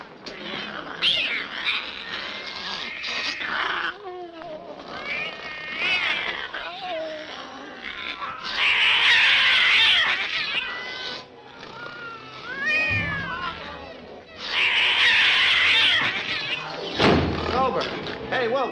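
Cats caterwaul and yowl in a 1948 World War II fighter-squadron film, with long, wavering, rising and falling cries that repeat loudly over several seconds, mixed with thumps and voices talking.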